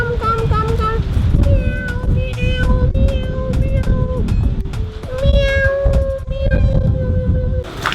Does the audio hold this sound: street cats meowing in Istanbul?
yes